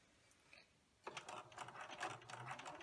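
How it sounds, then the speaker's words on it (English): A sewing machine stitches the two sides of a Halloween treat bag with a 3/8 inch seam, starting after a second of quiet and then running as a fast, close mechanical whir and rattle with no talking. "Go to the sewing machine and you're going to be sewing the 2 sides of the treat bag"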